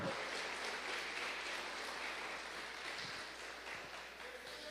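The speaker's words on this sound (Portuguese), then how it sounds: "Bate palmas para Jesus" Congregation in a church clapping together for Jesus, a dense steady wash of many hands at moderate loudness, continuous throughout with a faint voice underneath.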